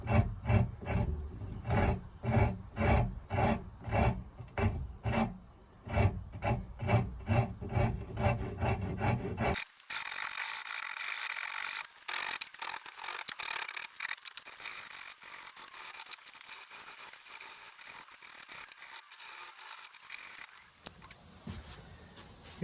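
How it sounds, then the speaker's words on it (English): An extra-smooth Iwasaki file rasps against wood in quick, rhythmic back-and-forth strokes, loud and close, then gives way to lighter, hissy scraping. No one speaks. "I'll just try and file that out down to the lines, and then just shape it manually from there."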